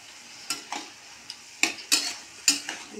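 Sliced snake gourd fries in a pan at home, with a handful of sharp, separate scraping and clinking strokes of a spoon stirring it over a quiet sizzle, with no voices.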